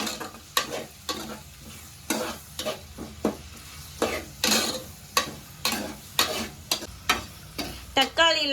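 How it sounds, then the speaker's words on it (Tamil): Tomatoes sauteing in a pan for a carrot beetroot curry, with a soft sizzle broken by repeated rhythmic scrapes and clacks of a spoon stirring, about one or two per second. "நான் இது கூட இப்போ தக்காளி சேர்த்துக்கிறேன்."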